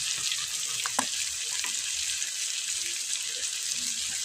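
Chicken and potatoes fry in a pan with salt, turmeric and chili powder, giving a steady, fairly loud sizzle throughout with a few brief clinks and scrapes on top and no voices.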